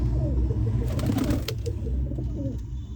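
Domestic pigeons kept by a fancier coo close by in a steady overlapping low murmur, with soft rolling calls repeating throughout and a faint rustle near the middle.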